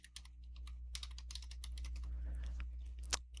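Rapid keystrokes on a computer keyboard as a terminal command is typed, irregular clicks and taps close up over a steady low hum, with a sharper key strike near the end.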